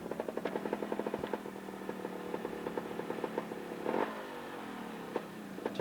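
A Montesa trials motorcycle ridden at the Colmore Cup, a British championship trials round: fairly distant engine blips and short revving bursts in an uneven, stop-start rhythm, with a louder surge near the middle.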